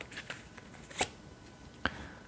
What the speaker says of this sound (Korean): 제가 마지막으로 소울 메시지 카드 하나 뽑아 보도록 할게요